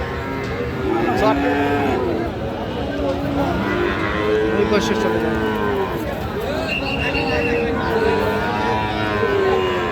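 Friesian cross bull calves low repeatedly at a busy cattle market, several drawn-out moos overlapping through the whole stretch amid steady crowd noise and people talking.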